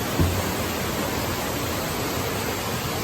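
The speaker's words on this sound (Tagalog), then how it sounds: "Ayan, Kanumantad Falls dito sa Bohol." Kanumantad Falls in Bohol, a dense continuous rush of falling water, loud and close, steady throughout with no voices.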